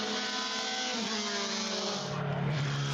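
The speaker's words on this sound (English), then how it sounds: "it sounds like the exhaust canisters bouncing around underneath the car now" A race car at the Jefferson 500 at Summit Point Raceway runs with a steady loud engine drone, its loose exhaust canisters rattling and bouncing around underneath, the pitch shifting slightly over a few seconds.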